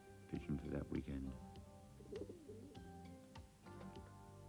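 Racing pigeons in a loft coo in soft, overlapping throaty calls, close and steady throughout, with a muffled voice faintly under them.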